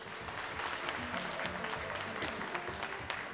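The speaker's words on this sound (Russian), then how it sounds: "Еще раз аплодисменты, пожалуйста." A concert hall audience claps in a dense, steady round of applause, moderately loud and sustained throughout, with no voices on top.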